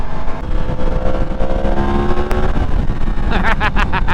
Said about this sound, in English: It sounds really nice, the MT09.